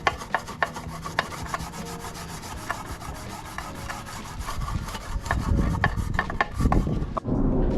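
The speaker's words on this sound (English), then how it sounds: "we're just gonna put some brake cleaner and then just kind of like scrape it off" A Mustang GT differential cover is scrubbed after being sprayed with brake cleaner, giving a steady close rasping rub with repeated scraping strokes that grows louder and rougher toward the end.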